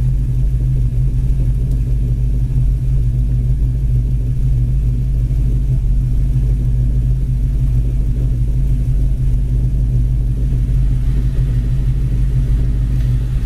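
A 1935 Ford with a red steel body idles steadily, its engine giving a constant, loud low rumble with an even throb that holds unchanged throughout, with no voices over it.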